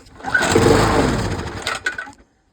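A Mountfield LS45 lawn mower salvaged from a dump cranks and catches, its small engine roaring loudly for about two seconds before abruptly cutting out into silence.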